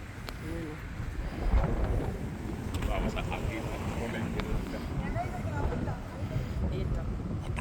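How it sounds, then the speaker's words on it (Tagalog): Strong wind buffets and rumbles across the microphone continuously, with people talking underneath. "Malakas ang hangin."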